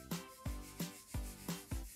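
Hands rubbing together in five or six regular strokes, each a soft broadband swish that imitates branches rustling in wind, close and fairly quiet.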